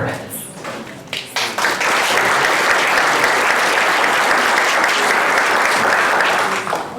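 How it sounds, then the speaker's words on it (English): An audience at a public forum talk bursts into applause after a brief lull, building to dense, sustained clapping from a large room that holds steady for several seconds before fading slightly. "I get nervous when people applaud ahead of me speaking."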